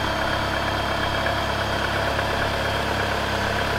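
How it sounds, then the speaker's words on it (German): A BMW M43 or M44 four-cylinder engine idling nearby with a steady, low rumbling drone and faint vibration, unchanging throughout. "Alten Motor laufen lassen."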